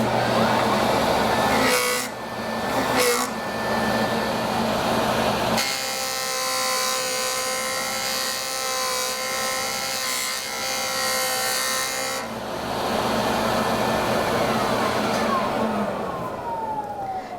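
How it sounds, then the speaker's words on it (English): A Foredom handpiece spins a felt buff loaded with polishing compound against a small metal piece, giving a steady high whine with rubbing texture that shifts in pitch partway through, loud and close with no talking. "So now I have the felt buff, and I'm going to use a little bit of the polishing compound."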